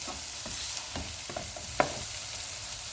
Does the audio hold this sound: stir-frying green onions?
yes